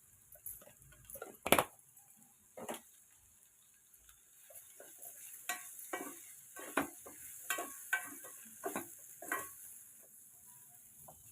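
Flat beans fry in a pan while a spoon stirs them, a faint steady sizzle with a loud scrape near the start and a series of quieter scraping strokes later, close by.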